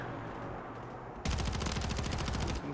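Rapid automatic gunfire in the Warzone 3 video game, starting abruptly after a quiet stretch and then rattling as a fast, steady burst of close, loud shots.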